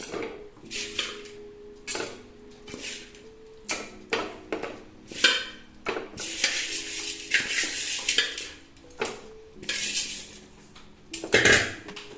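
Metal spoon scraping and clanking inside a pressure cooker as a chicken biryani mixture is stirred, Palakkad style, in repeated close, irregular strokes with rattling utensil hits and no talk.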